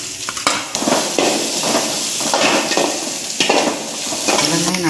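Onion frying in oil with mustard seeds and curry leaves for a chapati kurma, a steady loud sizzle punctuated by repeated scraping stirs of a spatula against the pan, close up with no talking.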